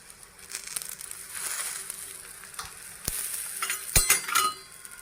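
Methi dhapate, a fenugreek flatbread, frying in oil on a pan, giving a close, crackling sizzle that swells and fades, with brief scraping and clinking from a spatula and a louder burst of spattering near the end.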